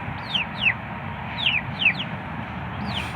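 Chickens in a backyard coop give sharp, high chirping calls, several quick descending cries in two bunches over a steady outdoor background hiss, with no talking.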